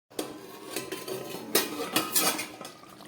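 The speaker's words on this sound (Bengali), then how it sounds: "ঢাকাটা খুললাম।" A metal lid comes off a cooking pot in a kitchen, giving a few close, sharp clinks and scrapes of metal on metal with no talking.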